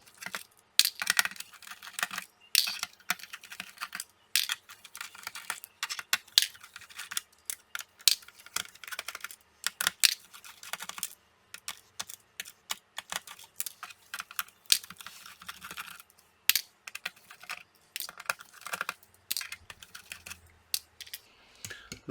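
Screws are being removed from a Lenovo V570 laptop, with close, irregular small clicks and scrapes of a screwdriver and metal parts, the light taps repeating in uneven bursts.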